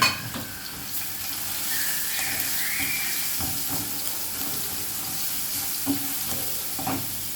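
Onions frying in a pan make a constant close sizzle, with occasional stirring scrapes and light clinks throughout, alone without speech.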